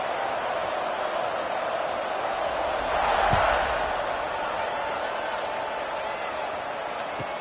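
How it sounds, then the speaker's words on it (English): Football stadium crowd roaring during a kickoff at an Army game, a broad, sustained wash of cheering that swells briefly near the middle before settling back to a steady din. "this crowd is feeling themselves after that last drive"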